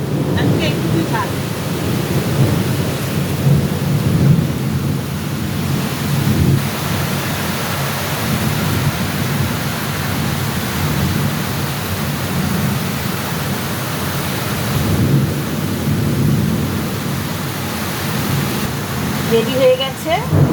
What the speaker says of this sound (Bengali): এত মেঘ ডাকছে, এত গর্জন হচ্ছে মানে কথা বলাও যাচ্ছে না, শোনাও যাচ্ছে না